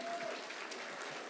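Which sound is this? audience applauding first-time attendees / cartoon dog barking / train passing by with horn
audience applauding first-time attendees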